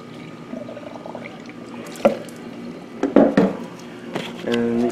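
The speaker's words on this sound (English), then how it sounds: "when I run water," Water runs and splashes into a car radiator during a flush, with trickling, a few sharp clunks and bursts of pouring, building to a steadier fill at the end.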